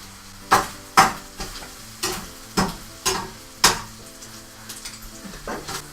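Tinned corned mutton is stirred and fried in a pan, with about eight distinct scraping strokes at a steady pace over a soft continuous sizzle.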